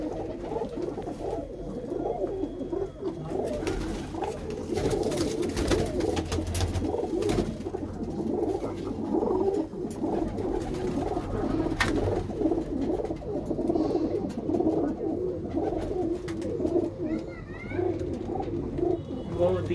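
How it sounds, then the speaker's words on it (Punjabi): Pet pigeons coo continuously nearby, layered soft throaty calls overlapping throughout with faint background voices now and then. "ਅੱਜ ਮੈਂ ਕਬਾਈ ਬਾਈ ਦੇ ਕਬੂਤਰਾਂ ਦਾ ਤੁਹਾਨੂੰ ਆਪਾਂ ਸ਼ੌਂਕ ਕਰਾ ਦਿੰਨੇ ਆ"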